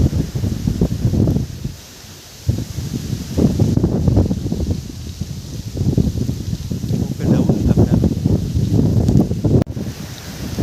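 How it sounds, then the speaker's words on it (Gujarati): Strong wind blows high up in a tree at a farm field and hits the microphone as a loud, continuous buffeting rumble. It comes in gusty surges, with leaves rustling through it. "બહુ પવન છે અહીંયા, બહુ ઉપર"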